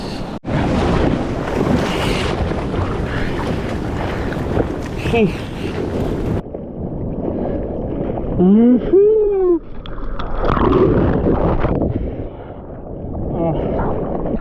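Ocean waves and surf breaking over a shallow sandbar at low tide in Ocean City after a storm swell, heard up close with heavy wind buffeting the microphone and a brief muffled voice.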